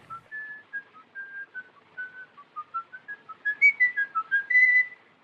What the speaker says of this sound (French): Et surtout, on le reconnaît par ce sifflement tristement célèbre.